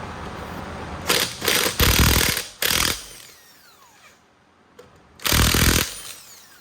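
A power tool with a 17 mm socket spins lug nuts off a wheel of a 2020 Jeep Renegade, letting out four loud, close bursts separated by short quiet gaps.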